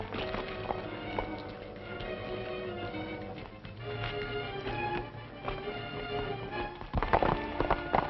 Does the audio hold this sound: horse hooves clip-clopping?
yes